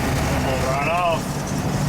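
First-generation Dodge truck diesel engine with a driveability upgrade revving up from around idle, a steady, loud rumble with a short rising surge, heard from inside the cab.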